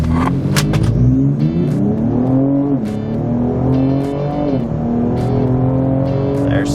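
A Ford Explorer ST launches hard off brake boost, its engine roaring loudly up through the revs with two clear gear shifts, pitch dropping briefly at each before climbing again, heard from close inside.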